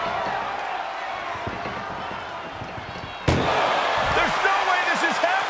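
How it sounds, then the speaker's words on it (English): A sharp metallic slam of an ambulance door shut in a wrestling video game, one loud bang cutting through steady crowd noise, followed by a few lighter thuds and bumps while a voice talks faintly underneath. "Trying to at least slam one door shut."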